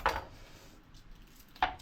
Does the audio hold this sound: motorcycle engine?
no